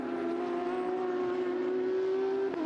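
A Porsche Cup race car on track during a 2022 qualifying session at Goiania, Brazil, holds a steady, sustained engine whine, fairly faint and continuous with no voices.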